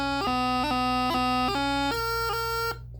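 A bagpipe practice chanter plays two measures, a steady reedy tone broken by quick grace-note ornaments between held notes, close and continuous until it cuts off sharply near the end.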